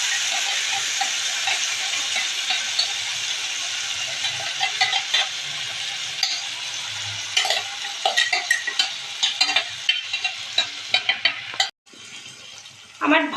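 A paste of green chilli, ginger and a large tomato fries in hot oil for a mixed vegetable dish, giving a steady close sizzle and hiss with scattered pops and stirring clatter that sharpen toward the end.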